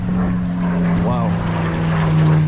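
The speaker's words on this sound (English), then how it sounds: "Some sort of plane, some aero stunts there, some sort of fighter jet, old school." Old propeller plane doing aerobatic stunts overhead at a West Wittering beach, a steady droning engine hum with a brief rising and falling whine midway, under someone talking.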